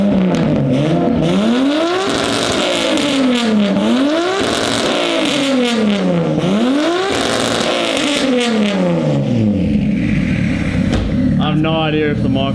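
An RB20-swapped Ford AU Falcon engine revving hard to high rpm, loud and close, with repeated rising and falling sweeps as the revs climb and drop, people talking and shouting over it.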